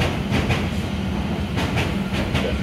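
London Underground Metropolitan Line train running toward Uxbridge, heard from onboard as a steady loud rumble with rhythmic clickety-clack of wheels over rail joints throughout.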